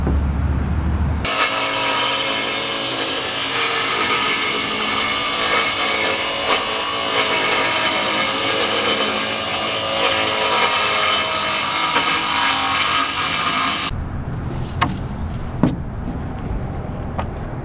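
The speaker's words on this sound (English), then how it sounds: "I would go an inch bigger and run a router" A router cuts through a kitchen wall built of 1-inch steel and wood inside an MCI E4500 bus conversion, a loud sustained whine for about twelve seconds that stops abruptly, leaving quieter shop noise and a few knocks.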